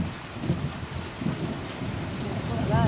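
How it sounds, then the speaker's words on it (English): Steady rain beats down during a thunderstorm, with low rolling thunder rumbling repeatedly underneath at a fairly close, full level. "Whoa, that rain though."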